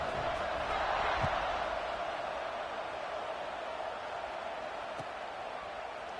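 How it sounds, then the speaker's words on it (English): Stadium crowd noise in a college football video game before a kickoff, a steady broad roar with a few faint thumps, continuous throughout. "this crowd now ready to get behind them"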